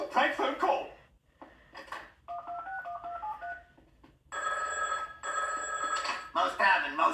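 A telephone is dialed with a quick run of keypad tones and then rings in repeated bursts before a prank call to a tavern, with voices talking around it.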